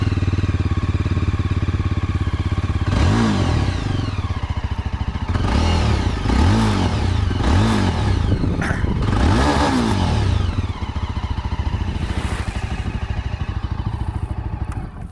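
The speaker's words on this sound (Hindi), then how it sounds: "अच्छा, एग्जॉस्ट नोट अब देखते हैं।" Yezdi Adventure motorcycle with the dB killer removed, idling with a steady, loud, gruff exhaust note and then revving several times in quick, rising bursts before settling back to idle.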